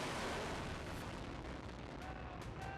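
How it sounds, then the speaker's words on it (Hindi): An Iranian Fateh-110 ballistic missile launches with a loud, sustained rushing roar. Faint crackling pops appear within the dense blast noise. "ये ईरान की फतह 110 मिसाइल है, जिसे इजरायल पर लॉन्च किया गया।"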